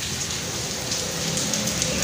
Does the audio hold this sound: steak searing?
no